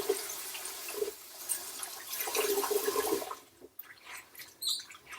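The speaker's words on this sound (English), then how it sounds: "add water. The leeks will flow to the top." Water pours and splashes into a basin while leeks are rinsed, a fairly close, uneven gush that swells and fades, ending in a few lighter splashes.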